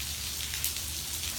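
Rain falling steadily outdoors during a thunderstorm, a dense, even hiss of drops pattering on surfaces, moderately faint and continuous with no voices.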